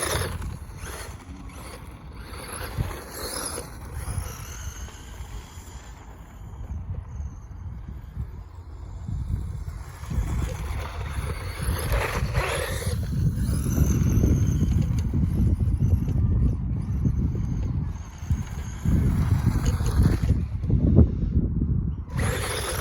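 Classic Team Associated RC10 B2 electric RC buggy driving on the ground, its motor whine and tire rumble rising and falling as it runs continuously nearby, no talk.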